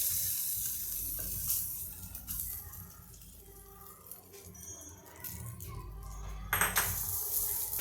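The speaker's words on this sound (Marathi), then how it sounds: "आता ही फोडणी मी या ढोकळ्यावर सगळीकडे घालून घेत आहे" Hot oil tempering with asafoetida is poured over a warm semolina dhokla, giving a steady close sizzle with a sharper crackling burst near the end and faint utensil clinks.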